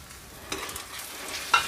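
Green peas go into onion already sautéing in a pan for matar paneer pulao, and the mix sizzles gently as it is stirred, with two brief scraping bursts up close and no voices.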